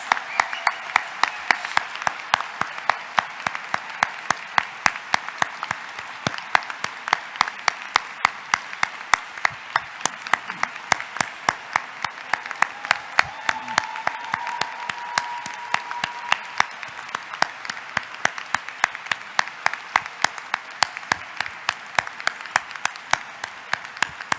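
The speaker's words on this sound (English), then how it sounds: "Please join me in giving a round of applause for all of our graduates." Sustained applause from a graduation class day audience honoring graduating postbaccalaureate premed students, steady dense clapping with sharp individual claps throughout, fairly close and continuous for the whole stretch without talk.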